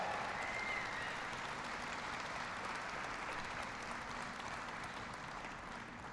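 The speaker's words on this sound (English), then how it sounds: "Give them all a big round of applause." A crowd at a political speech in Ohio's Mahoning Valley applauds, a faint, distant, even roar of many hands clapping that fades slightly toward the end, no talk over it.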